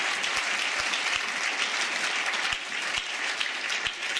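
A crowd at a church gathering claps loudly and continuously throughout, dense steady applause with a few cheers rising from it, close and filling the space.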